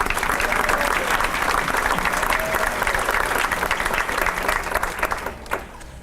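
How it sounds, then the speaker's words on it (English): Sustained audience applause fills an awards banquet hall, dense and steady for about five seconds before tapering off near the end. "So let's thank them all again with an applause."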